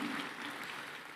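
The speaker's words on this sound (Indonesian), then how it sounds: "berikan tepuk tangan untuk Tuhan." A church congregation applauds for God during a Sunday sermon, a brief, fairly faint, steady wash of many hands clapping together with no clear voice over it.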